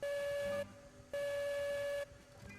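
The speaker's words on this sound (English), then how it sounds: "Double long whistle." Steam locomotive whistle in the railroad game Railroads Online, sounding two long sustained blasts separated by a short gap, clear and alone.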